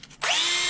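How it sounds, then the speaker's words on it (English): A small 12-volt cordless drill kept on an electronics bench whirs up after a brief quiet start, holding a steady, close, high-pitched motor whine. "Now I just have this little 12-volt drill that I keep on my electronics bench"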